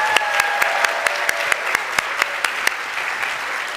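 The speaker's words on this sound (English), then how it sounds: "So big applause to the entire team that made this possible and pushed to get us here." A LevelUp Day audience claps for the team, with sharp individual claps standing out in a loose, uneven rhythm over a softer wash of applause, close and fairly loud.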